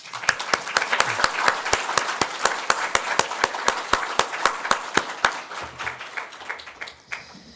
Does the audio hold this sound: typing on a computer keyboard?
no